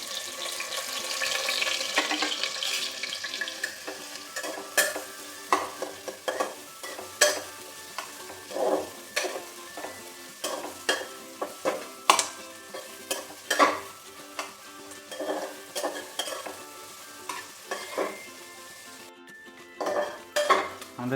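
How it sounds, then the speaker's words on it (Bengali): Three medium onions, chopped, fry in hot oil as a utensil scrapes and knocks steadily against the pan, making repeated clinks over a constant background sizzle, with no talking. "আমাদের পেঁয়াজটা মোটামুটি ভাজা হয়ে এসেছে।"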